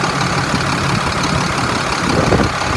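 A 2007 International 4400 dump truck with a DT466 diesel engine idles steadily and loudly up close, a low continuous rumble with no voices.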